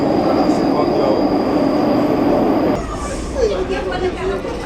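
An Algiers metro train runs with a steady loud rumble of wheels on rail, then the sound shifts and thins as the carriage moves on, with faint squealing and background voices.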